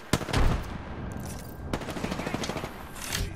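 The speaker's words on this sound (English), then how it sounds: "Getting shot at." Gunfire in the video game Apex Legends, with loud, close bursts of rapid shots crackling across the clip, including a sharp opening volley and a steady rattle of automatic fire.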